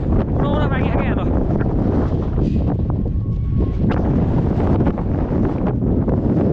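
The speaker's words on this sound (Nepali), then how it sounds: "हावा यस्तो चिसो हावा चलायो" Cold mountain wind on the trail from Beni toward Marpha and Jomsom, roaring and buffeting hard against the microphone with a constant low rush, and a brief voice near the start.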